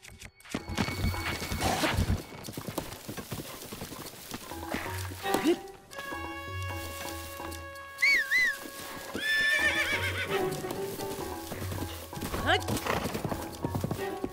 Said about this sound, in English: I love it when the horse refuses to move.